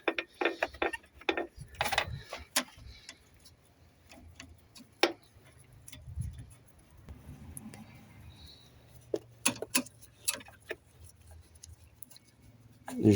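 Metal brake line fittings on a Peugeot 206 ABS block are tightened, producing scattered sharp clicks and ratcheting ticks in irregular bursts, fairly quiet with gaps between, and occasional soft clatter of tools.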